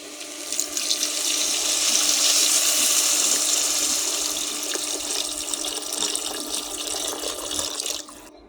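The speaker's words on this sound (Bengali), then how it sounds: "এখন আমি পরিমাণ মতো জল দিয়ে দেবো।" Water pours steadily into a pan of Ilish fish curry in a home kitchen, a continuous close splashing rush lasting several seconds before cutting off abruptly.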